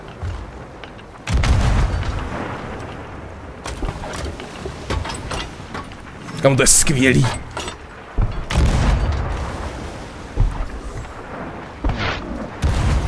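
Ship cannons firing in a naval battle in the game Sea of Thieves, several heavy booms scattered through the clip amid game noise, with players talking over it.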